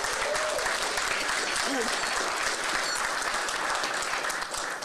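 A crowd at a press conference claps steadily and loudly throughout, a dense wash of applause with a few voices faintly mixed in.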